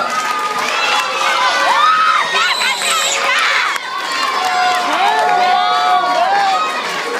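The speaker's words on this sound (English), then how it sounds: "All right, give her a round of applause." A group of children cheer and shout excitedly for a student at a question-and-answer session, a loud, continuous burst of overlapping high voices and squeals close by.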